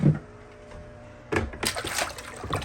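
An aquarium sponge filter is dipped and rinsed in water. A quiet pause gives way to close sloshing and splashing for about a second and a half.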